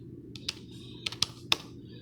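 A few sparse, crisp keystrokes on a computer keyboard at a terminal, heard as isolated clicks over a steady low hum with no talking.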